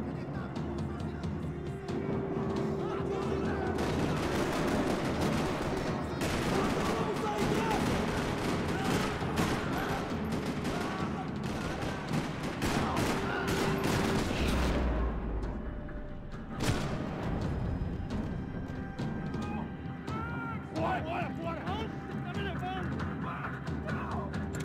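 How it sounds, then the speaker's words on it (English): Sustained gunfire in a parking lot in the Max Payne 3 video game, dense rattling bursts of shots and booms running loud and nearly continuous, easing briefly near the end with mixed game noise. "Another parking lot rattling with gunfire."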